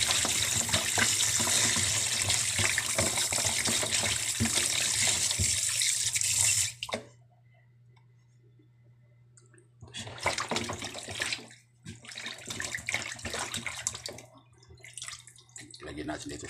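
A frying pan washed under a running kitchen tap: a loud gush of water for several seconds, then a quiet pause before bursts of splashing and scrubbing resume, with a person talking alongside.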